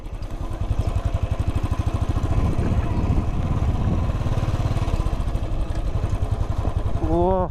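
A motorcycle engine runs steadily and loud and close throughout a ride to a lake, with a brief exclaimed voice near the end.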